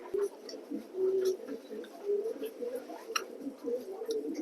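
A male pigeon coos repeatedly from a cage at a pigeon loft, low rhythmic calls recurring close by.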